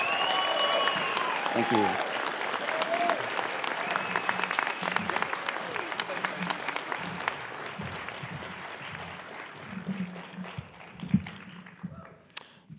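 A crowd applauds at a high school graduation ceremony, dense sustained clapping that thins out toward the end, with a brief spoken thanks heard over it.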